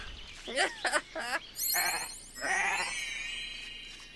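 Sheep in the Renowned Explorers video game bleat in a string of wavering, nasal calls, close and clear, with a bright chiming game effect sparkling over the later ones.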